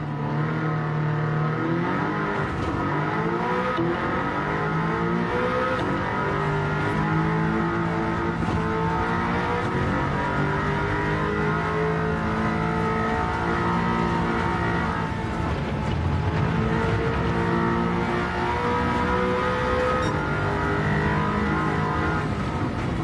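Audi TTS Coupe engine in Gran Turismo 7, with an engine swap, revving and shifting through gears in a steady, loud drone with rising and falling pitch sweeps, no talk.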